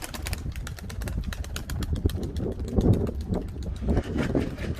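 Pigeons kept by a village bird keeper coo softly close by while wings flutter and flap in quick bursts, a steady busy rustle with light wind noise and no talking.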